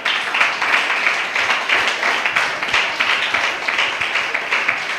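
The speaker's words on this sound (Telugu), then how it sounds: "కొట్టు చప్పట్లో హల్లెలూయా. కొంచెం గట్టి కొట్టవచ్చుగా." A church congregation claps in a steady, rhythmic beat, many hands together at a loud, even pace throughout.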